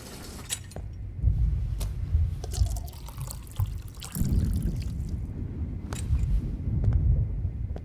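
Water poured into a container in the Life is Strange video game, a trickling, splashing stream with drips that rises and falls in bursts over several seconds, close and fairly clear.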